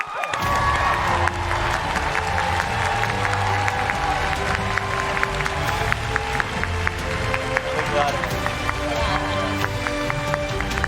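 A large convention crowd at the TwitchCon 2019 cosplay contest claps and cheers for the fan favorite winner, a continuous loud roar of applause with music and amplified sound mixed in over the full stretch.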